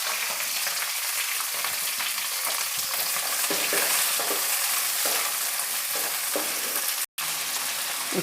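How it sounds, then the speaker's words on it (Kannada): Green chillies, chopped tomato and onion fry in oil in a pan for a chicken curry, crackling in a dense, loud sizzle with scraping stirs and a brief cut near the end, no speech. "ಫ್ರೈ ಆಗ್ತಿದೆ"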